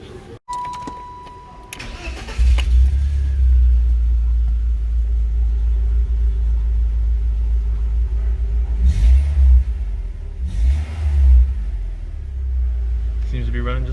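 A car engine cranks and catches after a spark plug change, then settles into a steady, close low rumble that idles evenly for over ten seconds, with faint background noise.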